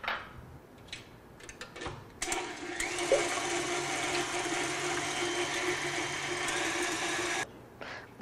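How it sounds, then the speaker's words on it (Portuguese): An electric mixer whips egg whites to stiff peaks for a tiramisu cream, a steady loud whirring drone that starts after a couple of seconds, runs continuously for about five seconds and then cuts off, with faint handling noises around it. "nós vamos primeiramente bater clara em neve"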